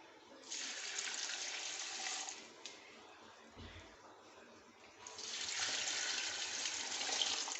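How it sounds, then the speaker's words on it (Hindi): Water poured from jugs into a cooking pot, three jugfuls in all, as a rushing splash that runs for a couple of seconds, dips, then surges again loudly near the end; no one speaks. "इससे मैं 3 जग पानी डालूंगी"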